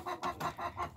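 Backyard chickens raised at home cluck while eating fattening feed, a steady string of five short, evenly spaced clucks heard close and fairly quiet.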